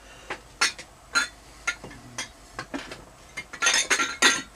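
A drinking glass is picked up among dishes at a beer tasting, with a series of sharp, close clinks and knocks at an irregular pace, growing busier toward the end, with no talk.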